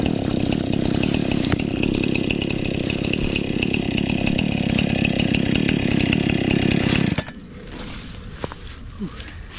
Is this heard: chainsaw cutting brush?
yes